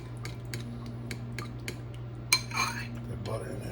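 A utensil clinks and scrapes steadily against a bowl while honey sriracha teriyaki glaze ingredients are mixed for chicken strips, regular close taps over a low hum, with a louder clatter near the end.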